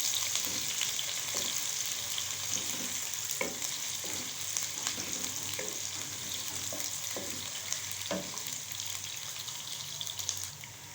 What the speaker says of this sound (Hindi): अब हम इसमें डालेंगे मीडियम साइज़ का एक प्याज, और हम इसको लाइट ब्राउन करेंगे।